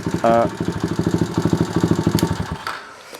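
A pit bike with cheap Chinese parts and a gearbox problem idles close by, its single-cylinder engine pulsing in a steady loping beat before it is switched off and the sound dies away near the end.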